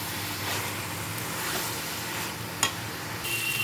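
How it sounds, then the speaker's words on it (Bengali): Fried fish heads go into a pot of simmering ash gourd curry (chal kumro ghonto), with a soft, steady sizzle and stirring and a brief metallic clink near the end. "এবার আমি এর মধ্যে দিয়ে দেবো ভেজে রাখা মাছের মুড়িগুলো"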